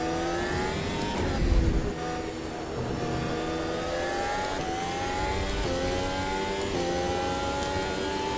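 Formula 1 race car engine howling around Imola in a racing sim game, a loud continuous high-pitched whine with rising gear-shift sweeps and repeated upshifts, steady and close throughout.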